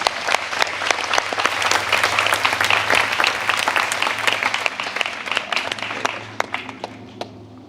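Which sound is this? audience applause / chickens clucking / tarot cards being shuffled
audience applause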